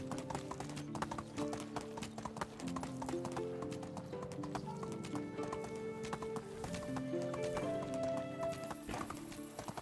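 Rhythmic clip-clop of a horse's hooves trotting along in the medieval survival game Medieval Dynasty, steady and continuous, layered over background music with a brief whinny.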